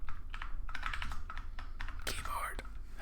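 Computer keyboard typing, with rapid uneven keystrokes close by, mixed with soft whispered speech.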